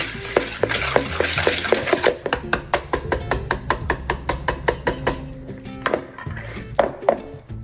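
A whisk clatters rapidly against the side of a bowl while creaming butter and sugar, in quick, steady metallic strokes, with a few louder clinks toward the end.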